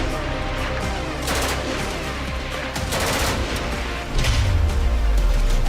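Bursts of gunfire in news footage from Anantnag in south Kashmir crackle through a steady noisy background, with rapid volleys of shots and a deeper rumbling boom swelling near the end.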